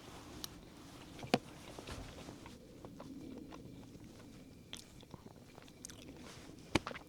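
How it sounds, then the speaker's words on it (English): A dog gnaws on a tree outdoors, giving faint, irregular crunching bites with a few sharper snaps standing out over quiet background noise. "Why are you chewing on a tree?"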